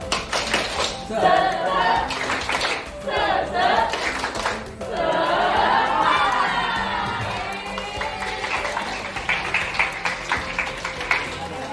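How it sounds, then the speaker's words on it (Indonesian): A group of children doing a rhythmic spirit clap, with bursts of patterned clapping mixed with voices chanting along, loud and close, followed by more cheerful group chanting and claps. "Ayo teman-teman, agar kita lebih semangat, mari kita tepuk semangat."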